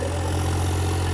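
At a tractor pulling tournament in Pind Palheri, a New Holland 3630 tractor engine idles close by with a constant heavy low hum and slight rhythmic knock, steady and loud throughout without any talking.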